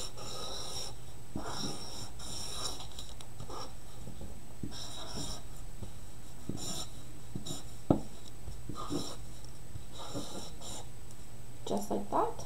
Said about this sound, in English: So I'm going to write my first name.